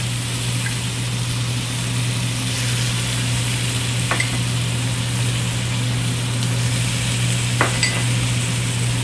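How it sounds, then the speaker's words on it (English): Mixed vegetables sizzle in a hot pan with onions and ginger garlic paste for a vegetable jalfrezi, a steady loud frying hiss over a constant low hum, with a few brief scrapes of stirring. "And we start adding vegetables,"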